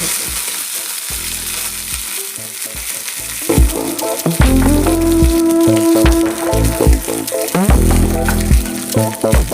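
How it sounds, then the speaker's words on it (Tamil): Crackling and popping of mustard seeds spluttering in hot oil for tempering coriander chutney, a dense sizzle with sharp pops, close and fairly loud, with some stirring. "கடுகு நல்லா வெடிச்சிருச்சு."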